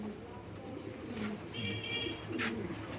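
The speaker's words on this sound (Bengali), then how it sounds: "ও, ফ্যান্সি, সব ফ্যান্সি আইটেমের কবুতর।" Fancy pigeons coo softly in a loft, low, faint calls repeating against quiet ambient noise with a few faint chirps.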